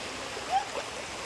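Steady broadband rush of a flowing river, even and continuous, with no voices over it.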